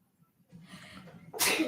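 A single close sneeze at the very end, sharp and loud, during a members' board meeting, preceded by a brief quiet breath.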